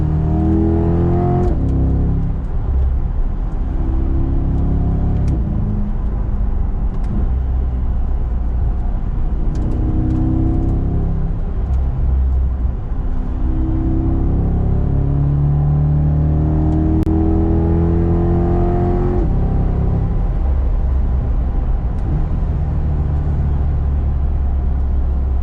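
A Chevrolet C8 Corvette Convertible Z51 driving on a canyon road, its engine loud and close, rising and falling through repeated revs and gear changes for the whole stretch with no talking.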